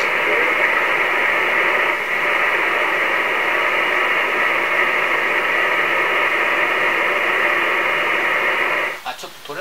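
An SSB amateur radio transmission on the 14 MHz band plays through a receiver as a continuous hissing, band-limited signal with garbled voice-like modulation, ending abruptly near the close.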